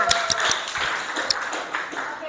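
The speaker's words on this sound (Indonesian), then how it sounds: "Tepuk tangan dulu untuk kita semua." A classroom of students clapping hands, a loose series of claps and taps mixed with chatter and a few bright ringing pings, moderately loud and close.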